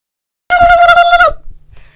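A human voice imitates a turkey's gobble in one short, loud, close burst of warbling trills, followed by silence.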